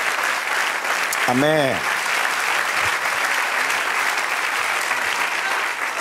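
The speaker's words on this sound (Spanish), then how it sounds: "Dale otro aplauso al Señor" Church congregation applauding during a Spanish-language service, sustained dense clapping filling the room, with a voice briefly speaking over it near the start.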